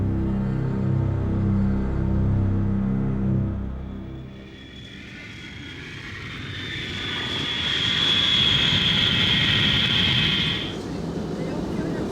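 A passenger airplane arriving at Heathrow Airport, its engine roar building to a loud steady whine before easing off, heard after music fades out.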